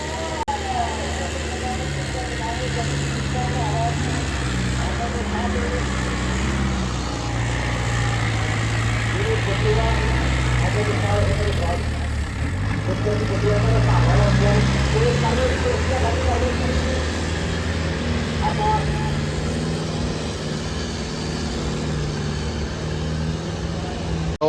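An Indofarm tractor with a faulty turbo runs at a village fair, its engine droning steadily near the listener and rising briefly in the middle, with people talking over it throughout.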